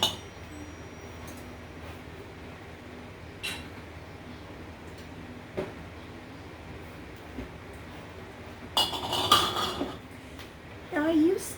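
Glass quart canning jars clink together as they are lifted out of a dishwasher, with a few sharp clinks near the end over quiet room noise.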